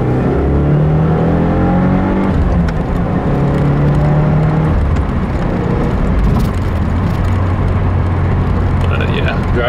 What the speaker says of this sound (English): So I guess I'll do a couple of pulls to 60 and test the car out somewhat.